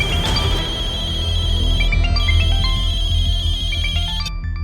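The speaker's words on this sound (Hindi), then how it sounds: "ये फोन मुसीबत बनी हुई है। हाँ? जब मैं किसी को फोन करूं तो वो उठाता नहीं है, और अभी टे टे टे टे टे टे करके बज रहा है।" A mobile phone rings with a bright electronic melodic ringtone, a repeating pattern of quick tones that plays loudly and close, alone, for several seconds before cutting off.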